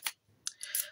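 Scissors snip through a strip of tape during a craft project, giving several sharp, close cuts with a short gap between them and no talk.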